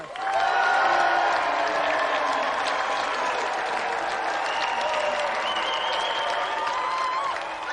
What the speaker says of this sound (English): let's have another round of applause for Scott Naylor and Nintendo champion Thomas Patterson